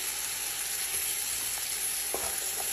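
Chicken pieces sizzle steadily in hot oil in a pan while being cooked for kabsa, a constant close crackle with a couple of soft stirring clicks.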